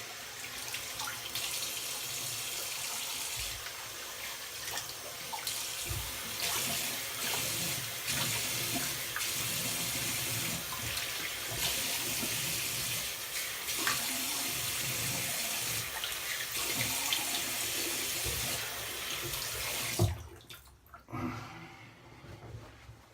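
Tap water runs steadily from a faucet into a sink during rinsing after a straight-razor head shave, a continuous broadband splash lasting about twenty seconds before cutting off, followed by faint drips and handling noises.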